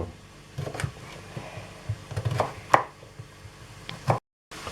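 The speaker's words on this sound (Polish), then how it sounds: "pokroimy w kostkę pozostałe warzywa" A knife dices vegetables such as celery, leek and carrot, chopping repeatedly against a cutting board in irregular bursts of strokes close by, with no talking.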